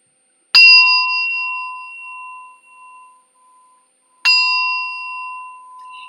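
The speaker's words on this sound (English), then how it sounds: "Let's do the singing bowl a few times" A singing bowl is struck twice, a few seconds apart, each strike ringing out as a clear sustained metallic tone that slowly fades, close and alone.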